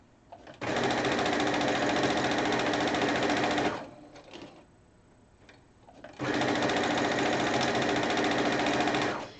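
A sewing machine stitches at a fast, steady rate in two long runs about three seconds apart, loud and close, with a pause and faint handling sounds between them.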